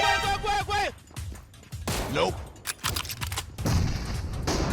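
Sniper rifle shots in the battle-royale game PUBG, several sharp cracks and booms spaced through the stretch, mixed with a voice talking over the gameplay.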